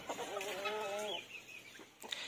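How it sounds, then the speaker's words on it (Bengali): A rooster standing beside a Silkie hen in a home garden gives a short run of close, throaty clucks, with a few softer clucks after, heard alone. "ওইখানে ওই যে সিল্কিটার সাথে মিটিং করতেছে মোরগটা"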